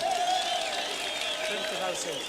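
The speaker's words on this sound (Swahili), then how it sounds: "Simpigia watu makofi jameni." A crowd applauds at a fundraising gathering for boda boda motorcycle riders in Embu, Kenya: dense, steady clapping throughout, with a voice carrying over it.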